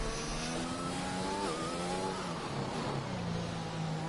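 Formula 1 race cars on medium tyres head out on track at Abu Dhabi in an F1 game, several engines whining and shifting pitch together at a steady, fairly quiet level.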